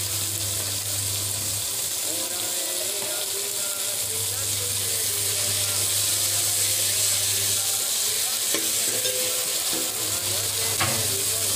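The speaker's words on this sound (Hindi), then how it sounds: "अब हम इसमें डालेंगे गाजर" Carrots hit a hot pan and sizzle steadily for pasta, a loud continuous frying hiss with occasional stirring scrapes and a low hum underneath, while a voice speaks faintly.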